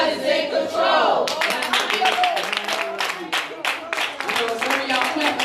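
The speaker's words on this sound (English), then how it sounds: "Some of y'all clapping like you don't know each other." A church congregation claps in quick, uneven bursts that begin after a second of voices, sustained and fairly close, with a preacher's voice and crowd noise mixed in.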